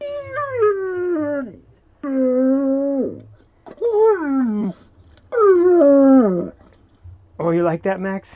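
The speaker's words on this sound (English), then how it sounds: "Yeah, that's my dog howling" A dog's howl comes through a portable Bluetooth speaker in several long, wavering, drawn-out calls with short pauses between them, loud and clear, and a person speaks briefly near the end.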